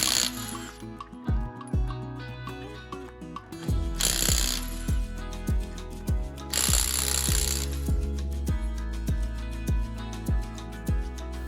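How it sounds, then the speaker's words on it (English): Lug nuts on the front wheel of a 2011-2014 Hyundai Sonata are loosened with a 21mm socket, giving a run of sharp, rapid rattling impacts that come in bursts, close and loud, with no talking. "Using a 21mm socket, remove the 5 lug nuts, remove the wheels."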